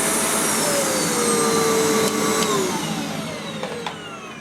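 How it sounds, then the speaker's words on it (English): Hoover TC1185 Alyx bagless cylinder vacuum cleaner running steadily at close range, a loud continuous whine and broadband rush with a rising-falling motor tone, easing slightly toward the end with a few faint clicks. "for a cheap Chinese vacuum, I don't think that sounds too bad"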